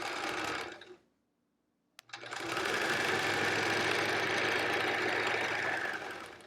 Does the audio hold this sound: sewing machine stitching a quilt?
yes